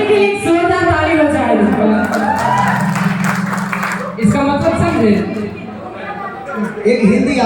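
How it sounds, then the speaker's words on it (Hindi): Applause and cheering from a live stage show crowd rise under a loud voice speaking through a microphone, clapping spread out and continuous, with chatter mixed in throughout. "जोरदार ताली बजाएं"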